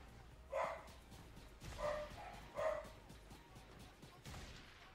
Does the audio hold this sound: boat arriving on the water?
no